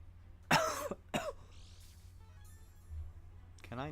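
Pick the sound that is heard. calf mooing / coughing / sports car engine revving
coughing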